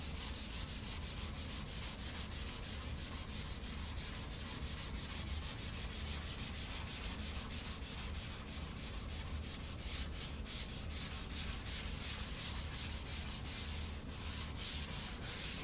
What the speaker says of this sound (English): This is probably the most important part of sanding, is working the edges.